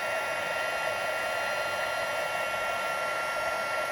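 A heat tool blows steadily while melting embossing powder on a stamped card, a constant close hiss of rushing air without pauses.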